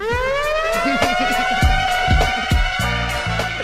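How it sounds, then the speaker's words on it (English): A loud, sustained wailing siren with a steady rising-and-falling tone, joined by thumping percussive beats underneath. "Let me give you a siren."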